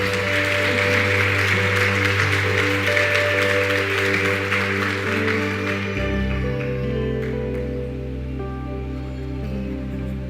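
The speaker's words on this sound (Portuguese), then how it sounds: "Vamos aplaudir a Deus?" A church congregation applauds in a dense, even wash of clapping, with sustained musical tones underneath. The clapping thins out partway through while the music carries on.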